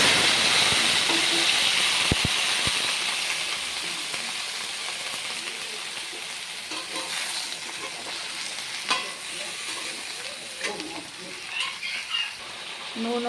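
Pointed gourd, eggplant and potato hitting hot oil in a frying pan, a loud burst of sizzling that settles into a steady frying hiss with occasional stirring scrapes.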